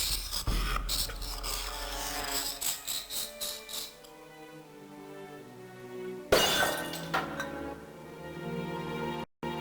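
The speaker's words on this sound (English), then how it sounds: "I smashed the tall urn into tiny pieces" A tall urn smashes to pieces in the video game Discworld Noir, a sharp shattering crash with scattered fragments, followed by a second loud breaking burst later, with a musical score playing throughout.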